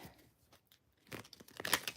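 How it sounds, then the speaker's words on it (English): Tarot cards are shuffled close to the microphone: quiet papery riffling and slapping that starts faint and sparse, then builds into a denser burst of crisp card flicks. "I ain't even done shuffling though"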